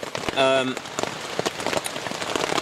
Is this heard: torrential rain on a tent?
yes